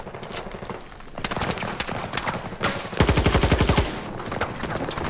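Rapid automatic gunfire rattles in Battlefield 2042, with several loud bursts of shots in quick rhythmic volleys and one dense close burst near the end.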